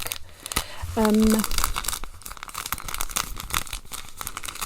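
Plastic packaging crinkles and rips close by, with a short hum-like voice tone in the middle and scattered crackling throughout.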